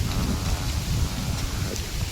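Steady rain falling outdoors on a windy day, a continuous close hiss that carries on evenly throughout, with no voices heard over it.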